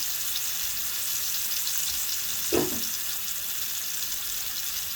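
Loud, constant hissing sizzle of steak searing in a hot pan, with a brief scraping sound in the middle.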